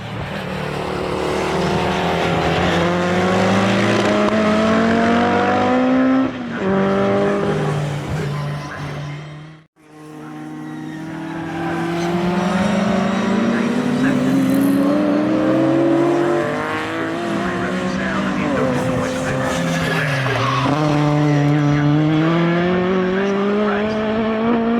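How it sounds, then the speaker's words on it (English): Race cars, including a Peugeot, lap the Snetterton circuit at a club race meeting, with engines loud and close throughout, pitch rising and falling through gear changes, and a brief dip as one car passes. "the fourth place car, Ricky Parker Morris, at the wheel of the Peugeot"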